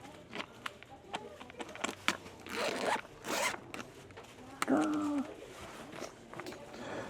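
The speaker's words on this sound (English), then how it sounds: "Okay, the zipper's not working. This is an older set." Sticky zipper being worked on an older backgammon set case made in Taiwan, scratchy intermittent zipping strokes close up, with short pauses and some rustling.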